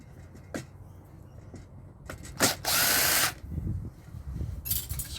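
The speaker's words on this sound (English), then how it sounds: "Let's unscrew some screws." A power drill with a Phillips bit backs screws out of cast alloy light fittings, giving a loud continuous whirr of about a second with a few short bursts and clicks around it, close up and without talk.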